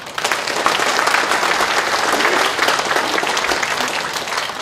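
Applause from a large crowd at a Korean party leadership candidates' speech event, a dense steady clapping that fills the whole stretch loudly and evenly.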